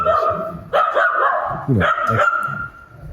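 A dog barks loudly and nearby in Lisbon, with two sharp bursts of yelping barks separated by a short gap and a speaker's voice mixed in.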